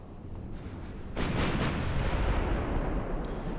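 In a naval battle video game, a torpedo strikes a warship with a deep, booming explosion. A rumbling background swells into the heavy blast, which lingers and rolls on for a couple of seconds.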